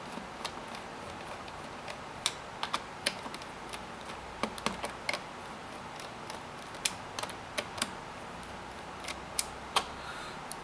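Small screws securing the keyboard of a Lenovo G580 laptop are being unscrewed, giving sparse, faint, sharp metallic ticks and clicks at irregular intervals over a quiet background with no talking.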